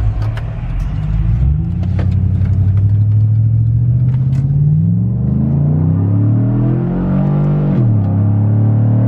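A warmed-up truck engine with an LS rocker trunnion kit rumbles and revs up steadily as it pulls away, the pitch climbing through gears, close and loud with no talking.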